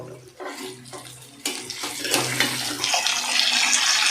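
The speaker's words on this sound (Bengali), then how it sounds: "জল দিলাম" Water poured into a pot of chicken biryani, starting with a few faint splashes and swelling into a steady, loud gushing stream that keeps building toward the end.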